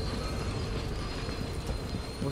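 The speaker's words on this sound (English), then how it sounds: "I think that's the train." A train in Dishonored 2 rumbles past with a low, steady rolling noise and faint metallic rattling, heard at moderate distance with no talk.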